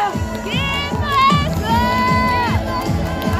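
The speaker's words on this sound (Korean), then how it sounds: "여러분, 큰 함성과 박수 보내주시기 바랍니다." Crowd at a Korean presidential campaign rally cheering and shouting, loud and continuous, with rising whoops and amplified voices over the din.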